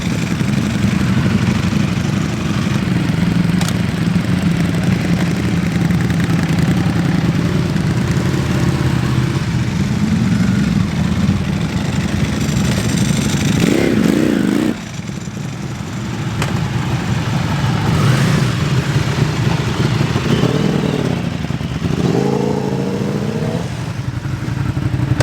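A Ducati motorcycle engine, either a Monster 937 or Panigale V4, running at a track-day sound test at Brands Hatch, a loud steady drone held for most of the clip, then a brief dip and rising, fluctuating revs.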